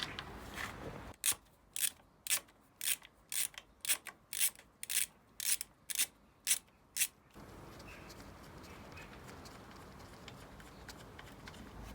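A tool works a rocker cover screw loose on a Moto Guzzi Breva 1100 with a run of about fourteen evenly spaced, crisp ratcheting clicks up close, then a faint, steady background hiss.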